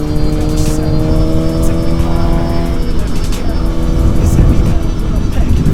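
Sport motorcycles, including a Suzuki GSX-R1000, Yamaha R7 and Kawasaki ZX6R, cruise on the road, heard as a steady loud engine drone with shifting tones under heavy wind rush.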